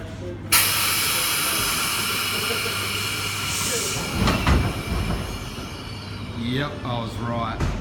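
A Sydney Trains S set, S66, at Hornsby station, hissing air and a steady mechanical drone near and loud, with a sharp burst at the start, a thump midway and brief squealing tones toward the end.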